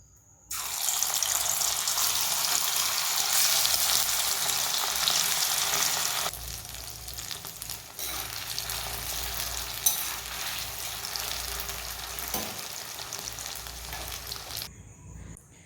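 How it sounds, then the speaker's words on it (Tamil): Marinated prawns frying in hot oil for prawn fried rice give a loud, steady sizzle with no talking. The sizzle eases slightly about midway and then continues until it cuts off near the end. "எண்ணெய் சூடானதும் நம்ம பிசைஞ்சு வச்சுருக்கிற இறாலை அதில் போட்டு பொரிச்சு எடுக்க போகிறோம்."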